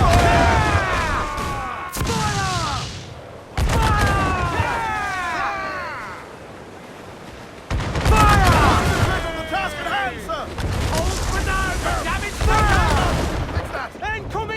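Ship cannons fire in Assassin's Creed IV Black Flag as heavy booming volleys burst in repeated salvos amid rushing sea and battle noise, with crew voices shouting over the gunfire.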